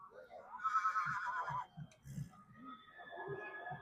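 Stallions at the Pushkar fair neigh while brought face to face in a judging ring, with loud whinnies over a noisy crowd and people talking nearby.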